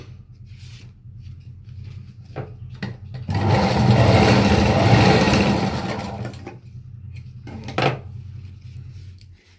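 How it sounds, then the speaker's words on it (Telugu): A sewing machine stitches a canvas layer of a kids' two-layer lehenga, whirring in one sustained burst of a few seconds between quieter handling clicks and thumps, with no talking. "ఈ విధంగా స్టిచ్ వేసుకుందామండి"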